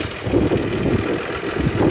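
A John Deere tractor engine, a 5403 or 6215 R, runs steadily at close range in a muddy field, with a low, even drone and no talk.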